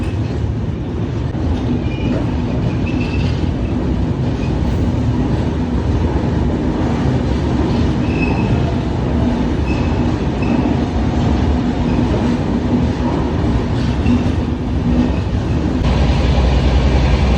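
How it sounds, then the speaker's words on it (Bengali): A passenger train on the Kolkata–Bangalore route runs along with a steady, loud rumble and rattle of carriages, faint wheel squeals now and then, and a constant roar throughout with no voices. "জাস্ট আমাদের ট্রেনটা ছাড়লো।"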